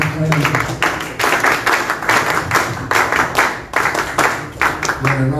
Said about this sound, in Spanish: Fuertes palmas para él, por favor.